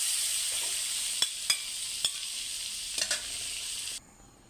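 Butter sizzling in a hot pan at the start of cooking vegetable fried rice, a steady bright frying hiss with a few sharp clinks of a utensil stirring, cutting off abruptly near the end.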